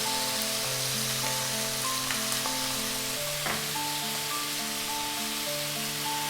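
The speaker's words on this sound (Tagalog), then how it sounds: "Ngayon naman, mag-a-add na tayo ng garlic." Garlic sizzles in hot oil alongside chicken adobo in a pan, a steady, close crackling hiss running throughout, with a faint musical backing underneath.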